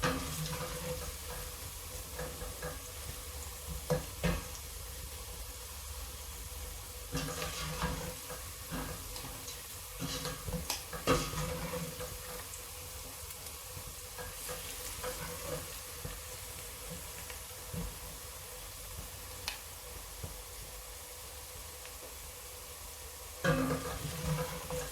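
Spinach and potato with dry spices cook in a pan, a faint, steady low sizzle with occasional soft stirring scrapes and clicks, heard alone.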